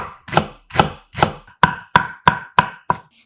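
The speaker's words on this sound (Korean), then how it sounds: "양파 작은 거 반 개는 칼집 여러 번 넣고 작게 썰어서" A kitchen knife chops half a small onion on a cutting board in eight sharp, evenly spaced strokes, each a crisp close thud with a short tail, and no talking.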